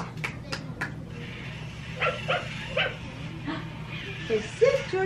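Puppy barking indoors, several short high yips and whimpers scattered through the clip, mixed with people talking nearby over a low background hum.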